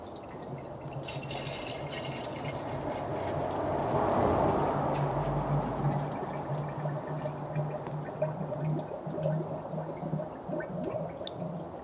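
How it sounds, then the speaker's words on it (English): Coolant glugs steadily from a jug into a car's coolant reservoir under the open bonnet, a continuous close liquid pour with gurgling that swells midway and carries on to the end. "I'm going to fill up the coolant because it's empty"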